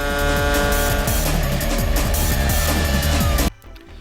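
A Club 100 racing kart engine buzzes loud and close from an onboard camera, a dense, steady rasp with rhythmic pulsing that cuts off abruptly just before the end.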